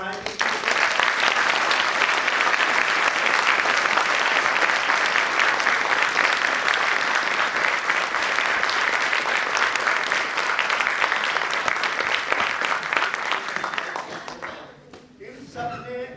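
Theatre audience at a Hindi stage play gives long, sustained applause for first-time actors, a dense even clatter of clapping that holds steady for about fourteen seconds before dying away into scattered claps.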